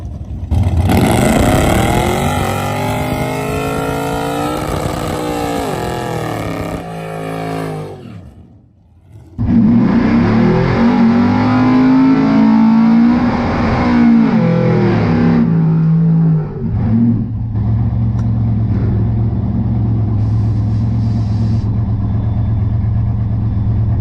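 Drag race car, a Mustang, pulling up at the drag strip and revving hard, with loud rising engine bursts, a brief dip, then a steady rumbling idle close by.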